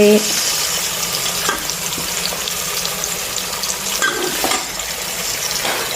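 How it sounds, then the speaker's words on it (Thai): Egg poured into a hot frying pan for mixed fried rice, giving a loud, constant hissing sizzle with a couple of soft scrapes, all close and without a break. "ใส่ไข่"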